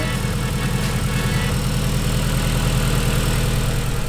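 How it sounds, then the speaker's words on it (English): A rebuilt turbocharged Datsun engine idles cold with a steady, rapid low rumble, holding a fairly even, loud drone throughout with no clear rev spikes and no voices. "Nothing beats a good cold rev on a rebuilt motor."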